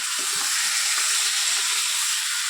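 Water poured into a hot pan of fried spices, giving a dense, continuous loud hiss and sizzle with steam, close and steady throughout.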